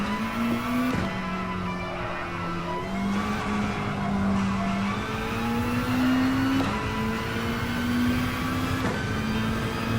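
Race car engine in Gran Turismo Sport, a thin, tinny, buzzing whine that rises and drops steadily through gear changes, loud and close with no talking.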